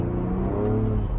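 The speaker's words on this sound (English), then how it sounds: "spinning up the tires here." Ford Bronco Raptor spinning up its tires, a loud, steady engine drone with a whirring tone held throughout the short burst, close and alone.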